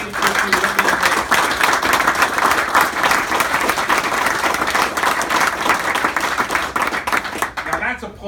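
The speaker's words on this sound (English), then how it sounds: "Now that's applauding for the past." Audience at a New Jersey wild game dinner applauding steadily, dense clapping that holds loud and even for several seconds before tapering off at the end.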